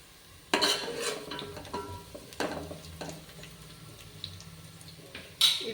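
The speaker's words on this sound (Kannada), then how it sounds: "ಮಿಕ್ಸ್ ಮಾಡ್ತಾ ಇರಿ." Vegetable pulao being stirred in a pan, a few separate scraping and clinking strokes of a spoon against the metal at close range, with quiet gaps between them.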